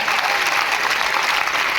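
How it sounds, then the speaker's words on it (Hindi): An audience at an RCM Day program at the Bhilwara headquarters applauds, with dense, energetic clapping from a large crowd throughout this short burst. "ताली जोरदार वाली बजाइए।"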